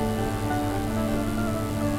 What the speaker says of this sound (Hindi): पानी बरसाता बाहर, जो गए होंगे भीग ही जाएंगे।